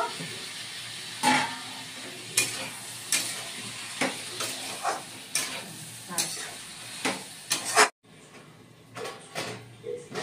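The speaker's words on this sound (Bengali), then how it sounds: "এটা অল্প জল দিয়ে এবার আরো অল্প কষে নিব" Pumpkin-green stems fried with a little water in a pan, soft sizzling and hissing broken by repeated scraping stirs at a steady pace, close and moderately loud, then a brief drop and a quieter sizzle resumes.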